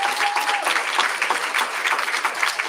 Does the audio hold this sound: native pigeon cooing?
no